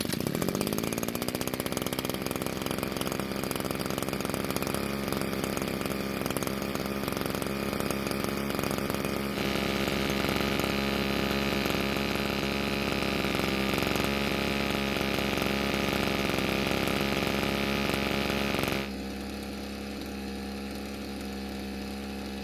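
Stihl FS81 string trimmer two-stroke engine running steadily and loudly for about twenty seconds with a rasping, buzzy drone, shifting pitch midway, then dropping to a quieter idle near the end.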